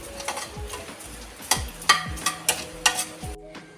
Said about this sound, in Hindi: इसे घी में अच्छे से भून लूँगी।